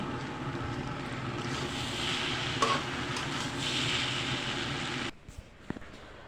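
Noodles sprinkled with chopped coriander are stirred and tossed in a sizzling pan, a steady frying hiss with scraping for about five seconds, then the sizzle cuts off, leaving a few quiet utensil clicks.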